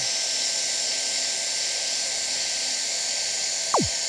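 Hot-air hand welder stitching a TPO roofing seam: a steady, loud blower hiss runs unbroken through the clip, ending in a short falling whistle near the end.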